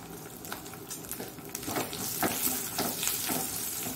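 Asafoetida sizzling in hot oil as a tempering for Mangalore-style tender jackfruit sambar, a moderate crackling fry with a few spatter bursts that grows slightly louder toward the end.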